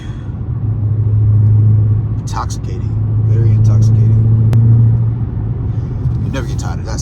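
Deep, steady exhaust rumble from a Dodge Charger Hellcat with its mid muffler deleted, swelling and easing as the engine is worked while driving. A voice speaks faintly over the close, loud drone.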